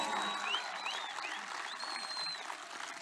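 Crowd applause at a political rally in Vanadzor, a dense steady wash of clapping across the whole stretch, with some high whistles rising above it.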